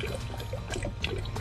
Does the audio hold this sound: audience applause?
no